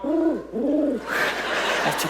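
A voice imitates pigeon cooing with two rounded, throaty coos, followed by a brief burst of noisy chatter.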